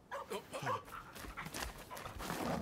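A dog in the video game Rise of the Ronin barks and whimpers in short, faint, restless bursts under scattered game noise.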